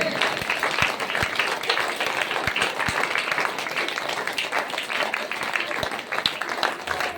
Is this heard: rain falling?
no